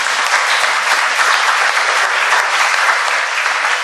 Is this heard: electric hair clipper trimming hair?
no